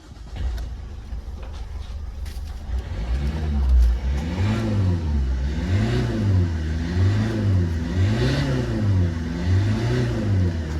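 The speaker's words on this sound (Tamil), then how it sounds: "இப்போ நான் வண்டி ஸ்டார்ட் பண்ணுறேன்." A Toyota Etios engine turns over and catches, then settles into a close, steady mid-pitched hum that rises and falls in repeated revs, with no talking.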